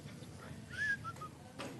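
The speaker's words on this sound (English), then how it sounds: "I can whistle." A brief, faint human whistle of a few short rising notes in a quiet council meeting room, with low room noise beneath and no talk.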